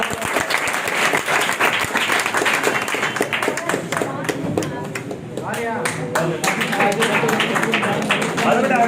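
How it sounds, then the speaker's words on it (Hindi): A crowd claps loudly and continuously at a birthday celebration for a coaching-class director, dense applause filling the room, with voices mixed in beneath it. "जोरदार तालियां।"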